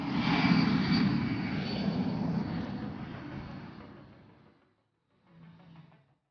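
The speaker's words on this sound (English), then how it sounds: "The C-17 will now maneuver for a circlet right in front of show center" C-17 transport jet at an air show, its engines roaring loud and steady for about four seconds before fading out, then a brief fainter rumble returning.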